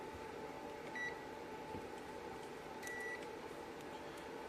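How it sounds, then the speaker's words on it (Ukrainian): A multimeter set to continuity test mode, giving two short electronic beeps about two seconds apart over a steady background hum. "Беру мультиметр, вмикаю на прозвонку"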